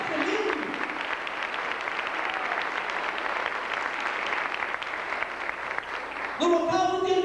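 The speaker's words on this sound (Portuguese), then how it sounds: "Vamos aplaudir ao Senhor, porque isso é tremendo." A crowd at a baptism service applauds loudly and continuously for several seconds, with a voice starting to speak over the clapping near the end.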